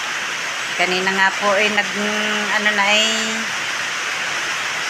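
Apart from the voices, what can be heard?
heavy rain falling on a roof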